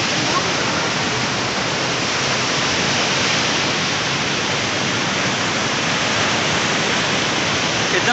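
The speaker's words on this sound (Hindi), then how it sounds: "देखिए बेसिकली आप लोग को यहाँ का गति और बहाव को दिखाते हैं कितना रफ्तार है" Fast river water rushes through the fully opened barrage gates of the Kosi in Nepal as a loud, dense, unbroken roar that fills the whole clip.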